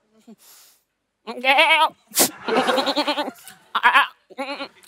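A man imitates a goat's bleat with his voice, giving several wavering, quavering cries in short bursts separated by brief pauses, close and clear with no other voices.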